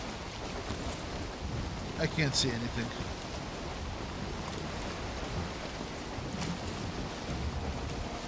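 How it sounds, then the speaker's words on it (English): Steady rain falls over a dark swamp in a video game, a constant hiss with a brief rumble of thunder, while a person speaks quietly over it. "Oh, it's raining."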